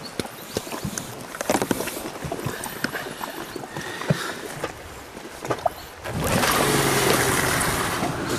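Suzuki outboard boat motor running on a mountain river, scattered knocks and rushing water first, then a steady engine drone rising loud and close for the last couple of seconds.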